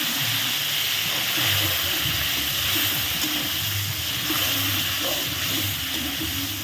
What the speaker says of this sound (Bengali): মাছের তেলটাকে একটুখানি বেগুন দিয়ে ভেজে নেবো